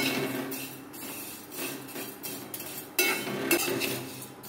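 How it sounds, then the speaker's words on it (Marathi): Homemade vermicelli is roasted in a pan, with repeated scraping and clinking of a metal spoon stirring against the pan, faint sizzling beneath the close, irregular strokes. "तर मग शेवाय मी भाजून घेते।"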